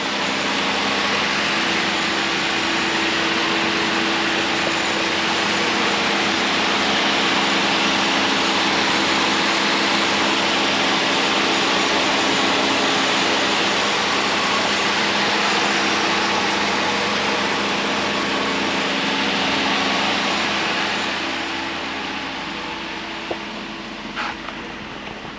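A 1986 Mercedes 560SL engine idles steadily at normal operating temperature, a continuous close hum that holds even for most of the stretch and then eases slightly near the end, with no talking.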